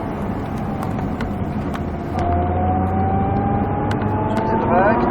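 Race car engine at the Croix en Ternois circuit holding a steady drone, then climbing in pitch as it accelerates, with an instructor's voice talking over it throughout.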